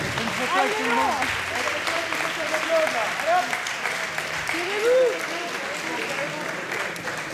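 Sustained applause from a crowd, steady and fairly loud throughout, with voices calling out over the clapping.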